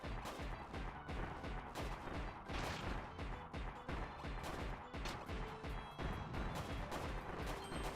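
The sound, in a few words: gunfire or cannon fire in a video game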